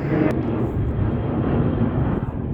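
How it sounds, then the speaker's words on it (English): An airplane flies over a basalt volcanic landscape in western Victoria, a steady broad roar that fills the whole stretch without any clear change in loudness. "no, airplane"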